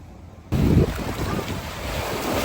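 Sea waves breaking at a beach in Laguna, starting abruptly with a loud surge of surf and continuing as a steady rushing wash mixed with wind noise on the microphone.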